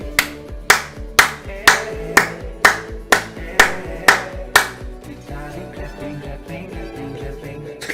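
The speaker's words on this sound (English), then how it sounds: "Vitalik clapping, clapping" Rhythmic hand clapping, about nine sharp evenly spaced claps in the first five seconds over a steady musical backing, fading into the music afterward.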